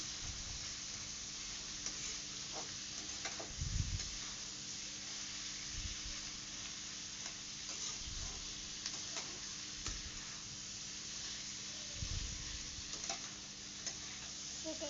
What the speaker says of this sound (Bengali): চলো এখন চিকেনের মশলাটা কষাচ্ছি